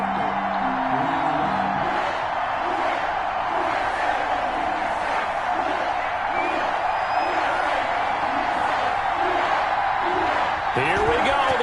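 Video game stadium crowd in Madden NFL 21 for a Panthers–Saints matchup: a constant, loud crowd roar with a commentator's voice talking over it throughout.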